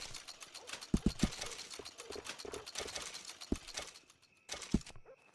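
Horse hooves clip-clop in Red Dead Redemption 2, a run of close, crisp strikes in an uneven rhythm with a few louder thuds, a brief mechanical rattle near the end.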